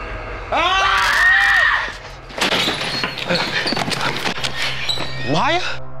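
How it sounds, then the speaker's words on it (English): A person lets out a long, loud, piercing scream up close, followed by thuds and door-like bumps with muffled voices, then a second rising shriek near the end. "We heard you scream."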